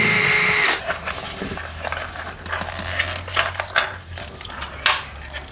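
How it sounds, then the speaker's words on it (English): Drywall being cut out for a ceiling speaker installation, a brief loud mechanical burst at the start followed by a low steady hum and scattered scraping and knocking at close range, with no talk. "and then we'll be cutting out the drywall."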